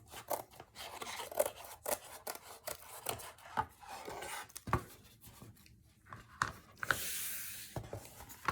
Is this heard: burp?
no